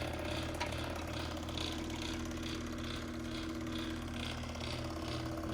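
Pump motor running at roughly 2,000 RPM on an old machine built for arteries and veins, giving a steady droning hum with a regular whooshing pulse about twice a second throughout.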